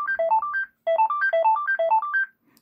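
A BT3570 cordless phone handset plays ring melody number 7. Two loud, clear bursts of a bright electronic tune sound up close, with a short gap between them and no speech.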